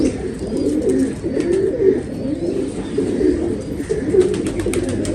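Pigeons coo in repeated low rolling phrases close by, several birds overlapping with brief pauses and faint flutters in between.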